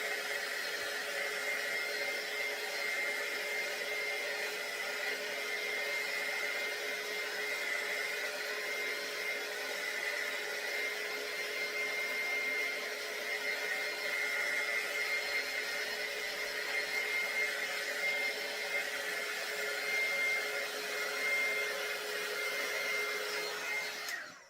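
A heat gun with a long cord blows very hot air while drying a DIY wooden sign, a steady, continuous whirring fan roar that holds even for over twenty seconds and cuts off abruptly at the end.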